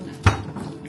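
A single close clank of a metal pan or utensil as raw pork is handled for rinsing before cooking, a brief sharp knock followed by faint kitchen rustle.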